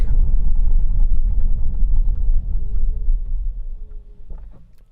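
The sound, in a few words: Chinese car braking at around 20 mph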